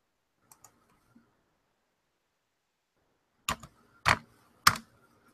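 A computer keyboard is tapped to enter a search: a few faint, scattered clicks at first, then three louder, well-spaced keystrokes close by in an otherwise quiet room.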